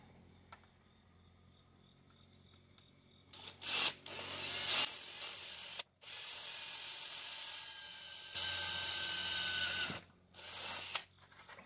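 An angle grinder cuts through the sheet metal of a damaged new radiator support, starting after a quiet pause and running in loud, close bursts with short gaps and dropouts between cuts.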